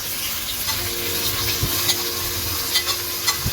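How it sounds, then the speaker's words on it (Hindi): Tomatoes hit browned ginger and garlic paste in a hot pan for lauki salan, giving a loud continuous sizzle with occasional scraping stir noises and small crackles, no voices. "अदरक का पेस्ट ब्राउन हो चुका है, इसमें ऐड करते हैं टमाटर।"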